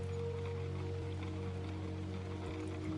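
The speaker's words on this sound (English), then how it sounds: "The kind of rain that could fall all night and not mind, just falling." Soft, steady rain falls without a break, a faint, even patter with no voices, calm and unchanging throughout.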